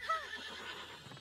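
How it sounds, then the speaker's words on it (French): A short horse neigh from the video game Princess Peach Showtime, a brief high whinny that falls away, followed by faint hoof-like taps over a quiet game soundtrack. "Ça rend le cheval joyeux quand tu rebondis, je trouve."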